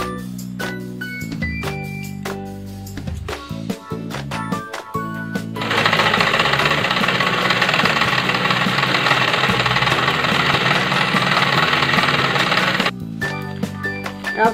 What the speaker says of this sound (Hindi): अब सिलाई कर लिए